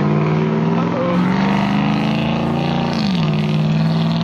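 Loud car with a very loud muffler idling and droning in traffic, a steady low exhaust rumble with a pitch shift near the end as the engine changes speed, no talk over it.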